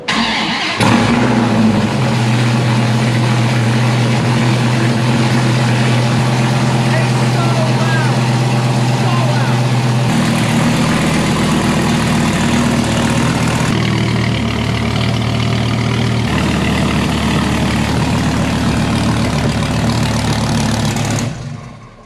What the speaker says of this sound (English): One last cold start on my straight pipe Dodge Viper before we throw this new exhaust on.